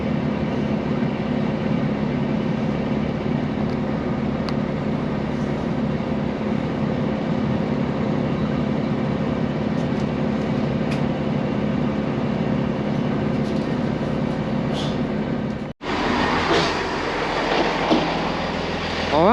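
A London Underground Central Line train arriving at Greenford, a loud steady rumble of wheels and motors filling the platform, with a brief drop near the end before a brighter burst of noise.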